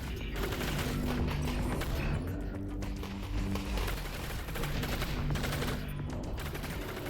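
Gunfire in the Half-Life: Alyx video game, dense sustained bursts of automatic weapon fire rattling on for several seconds, loud and continuous with brief gaps.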